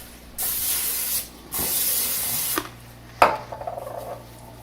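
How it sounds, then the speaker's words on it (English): Cooking spray is sprayed onto hands in two steady hissing bursts while Rice Krispie squares are being made, followed by a soft knock and light clatter. "spray my hands."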